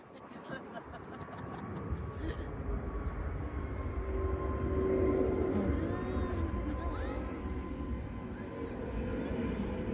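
A Christchurch, New Zealand lavender farm where an airplane passes overhead, its engine a steady broad drone that swells toward the middle and then eases, with people talking nearby over the top.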